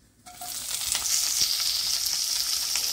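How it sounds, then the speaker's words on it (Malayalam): Crushed onions drop into hot coconut oil and burst into a loud, continuous sizzle that holds steady to the end. "ഇനി ഇതിലേക്ക് ചതച്ച് വെച്ചിരിക്കുന്ന ഉള്ളിയൊക്കെ ചേർത്ത് നമ്മൾ വഴറ്റാൻ പോവാണ് കേട്ടോ"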